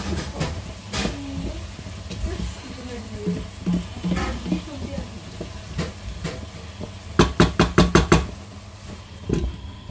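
A spoon stirs autumn spaghetti sauce in a pan, with scraping and knocking strokes and a low simmering sizzle, building to a quick run of sharp knocks near the end; no one speaks.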